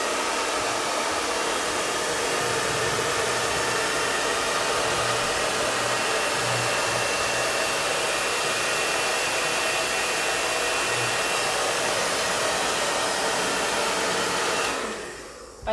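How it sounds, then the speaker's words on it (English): A hair dryer blows hot air over a WoodUBend moulding on furniture, a steady loud whooshing roar that holds unchanged for a long stretch before cutting off abruptly at the end. "one more time with the hairdryer"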